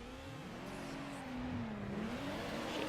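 Race car in Need for Speed Underground 2 launching off the line and short-shifting, its engine droning and rising steadily in pitch, loud and continuous, with no speech.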